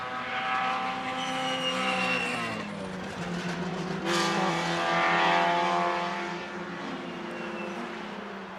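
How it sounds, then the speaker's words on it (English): Lotus Cup race cars lapping Rockingham circuit, their engines whining and droning as they pass at moderate distance, with rising and falling pitch through the field. "They've built a fantastic car for Adrian and he leads this race here at Rockingham comfortably."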